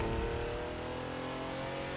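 A car fitted with six exhaust pipes in The Crew 2 racing game revs, a loud, close engine tone that rises in pitch then holds steady, alone without talk.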